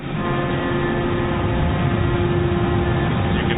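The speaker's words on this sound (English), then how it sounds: "You can hear the rumbling in the background, which means the cutter head is turning and the rock is going out in the conveyor system." A tunnel boring machine's cutter head grinds through rock in an Iceland tunnel, a dense, continuous low rumble with steady mechanical roar and no pauses, loud and close, with no speech.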